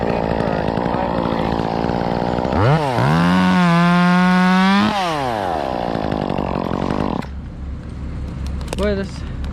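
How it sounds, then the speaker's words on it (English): A chainsaw with a brand-new Panther bar and chain cuts tree limbs near a chipper. It revs up sharply into a loud, rising scream, holds through the cut, then drops back to a rough idle, and a voice can be heard around it. "thing is cutting like a mean machine right now. Brand new Panther setup, brand new bar and chain."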